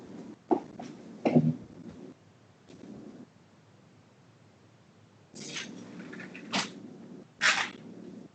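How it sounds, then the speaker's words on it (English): An indoor door is pushed shut: a few quiet clicks and soft thumps from the latch and frame, heard faintly against a hushed room. "I'm just going to close the door."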